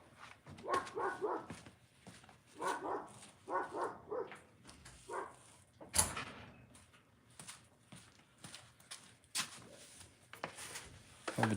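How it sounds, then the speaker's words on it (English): A German Shepherd barks outside in repeated short bursts, muffled and somewhat distant, with a sharp thud of a door closing midway and more scattered barks afterward. "I'm gonna close the door so we can't hear the dogs."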